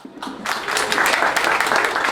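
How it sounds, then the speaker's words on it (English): A conference audience bursts into applause after a short quiet moment, building quickly into loud, dense clapping that stays full and sustained. "I want to hear a round of applause to all of you"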